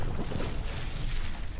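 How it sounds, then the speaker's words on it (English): Battleships trade fire in the From The Depths video game, giving a continuous rumbling roar of massive explosions, heavy in the low end and loud throughout, with no pauses between blasts. "These massive explosions."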